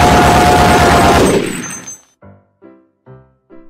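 A video-game SMG fires a rapid, dense burst at zombies that cuts off, followed by a few separate thumping hits or clunks.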